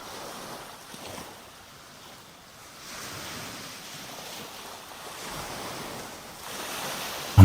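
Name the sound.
ocean waves on a beach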